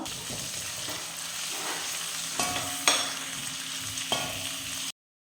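Chopped ginger and garlic sizzling steadily in hot oil for a dates and lemon pickle, with a spoon scraping the pan now and then and a few sharper clinks, before the sound cuts to silence.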